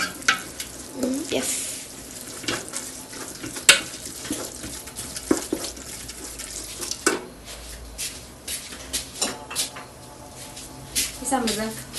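Chicken masala with red chili and coriander powder stirred in a hot pan for biryani, steady sizzling and scraping strokes under someone talking throughout.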